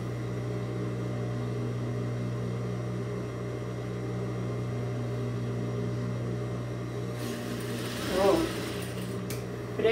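A sewing machine hums steadily and fairly quietly while stitching a simple fabric bag, with a brief rustle of fabric handling near the end and no talking.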